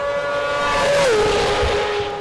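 Sidecar racing motorcycle running a 600cc four-stroke bike engine on racing slicks, a sustained high-pitched engine whine that drops in pitch midway through as the outfit passes, loud and close, with no talk.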